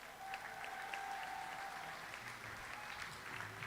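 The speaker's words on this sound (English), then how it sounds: "If we can show a round of applause, please, for Mr. Tom Baster." Applause at a long course swimming championships session, a steady wash of clapping from the crowd in a large pool hall, sustained and moderately distant throughout.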